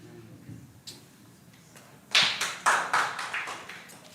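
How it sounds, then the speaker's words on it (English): Scattered applause from a small audience at an inter-faith conference on climate and environment: a few isolated claps, then a brief burst of several sharp, close claps that swell and fade over a couple of seconds. "A round of applause for Nicholas"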